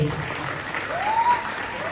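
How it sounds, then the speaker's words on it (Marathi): An audience claps for Ravi sir at a district-level dance competition. The applause is a brief, steady patter of many hands with a faint whistle-like tone rising through it. "तर एकदा रवी सरांसाठी एका जोरदार टाळ्या आपण देऊया"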